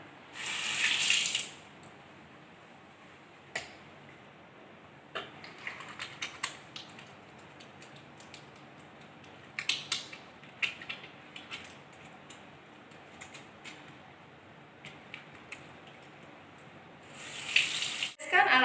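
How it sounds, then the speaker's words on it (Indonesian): Hands are washed under a running tap at a sink during a six-step handwashing routine after gloves are removed, with a steady gush of water at the start and end and small clicks and splashes in between. "Cuci tangan 6 langkah."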